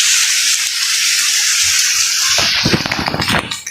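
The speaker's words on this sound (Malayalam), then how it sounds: "അയ്യോ മഴ" Rain falls as a loud, steady hiss, then turns into heavier splashing and gushing water toward the end.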